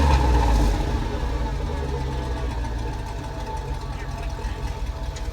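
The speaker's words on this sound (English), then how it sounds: "All right, rev it again." A donor vehicle's engine, which is running rich, idles roughly up close. A louder rumble at the start settles into a steady uneven idle, with voices talking over it.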